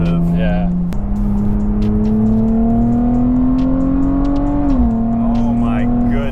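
A tuned 480 whp 2024 Nissan Z Nismo pulls hard in fourth gear, its engine drone rising steadily in pitch from inside the cabin, with a brief gear dip and a voice heard over it.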